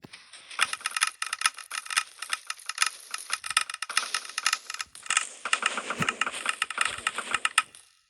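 An automatic arrow-shooting machine running in Minecraft, a dense, rapid rattling stream of mechanical clicks and shots that pulses on and off without a break, fairly loud and with no talking.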